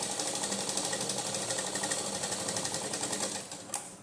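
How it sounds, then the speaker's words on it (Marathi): A sewing machine runs steadily, stitching the lining of a book binding with a fast, even mechanical chatter up close, slowing and stopping near the end with a final clunk. "आता आपण त्याच्यावर परत एकदा शिलाई मारून घेऊया."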